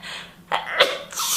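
A single sudden human sneeze bursts out near the middle, set between softer breathy inhalations and a short follow-up exhale, close to the listener.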